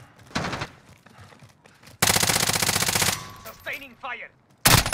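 Sustained machine gun fire in Call of Duty: Modern Warfare, with a short burst early on and then a loud, continuous rapid stream of shots for about a second, plus another sharp burst at the end amid game noise.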